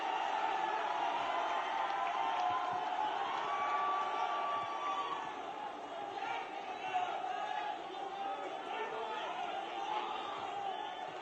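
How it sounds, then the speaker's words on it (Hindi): A large crowd at a Congress Jan Aakrosh rally in Shajapur, Madhya Pradesh, cheers and roars continuously to welcome former chief minister Kamal Nath, a steady distant din with scattered shouts. "माननीय कमलनाथ जी का जोरदार तालियों के साथ उनका स्वागत हम करें"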